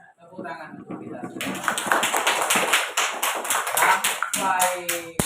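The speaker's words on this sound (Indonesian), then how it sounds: "tepuk tangan untuk kita." A class of children clap hands in rhythm in a classroom during a lesson, with rapid repeated claps alongside an adult's voice and children's talk.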